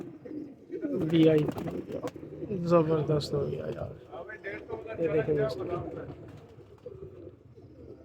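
Pigeons kept for sale cooing softly in repeated low, throaty phrases at close range, with someone talking over and between the calls.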